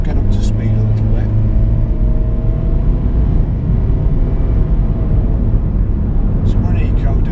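A 2012 Toyota Verso S 1.3 VVT-i with a CVT pulls away in eco mode, its engine holding a steady droning hum from inside the cabin, loud and constant.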